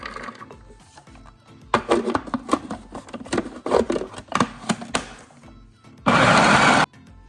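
An electric chopper whirring through a chicken and lentil mixture for shami kabab in a home kitchen: a loud steady buzzing burst near the end, after a run of knocks and scraping.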